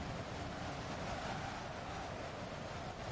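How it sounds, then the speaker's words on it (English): Steady, loud wind buffets the microphone on a windy day at New Haven station, a dense broadband roar with a hint of surf-like rushing that holds constant throughout, with no voices. "It's clearly a very windy day here at New Haven."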